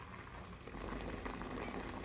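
Papad omelettes go into a hot pan with fried spices, giving a dense close bubbling sizzle that swells slightly partway through, alone with no voices.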